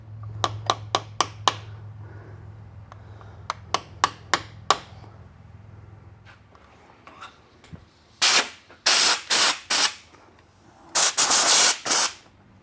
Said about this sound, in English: I'm going to get a socket that's the right size and just tap that in.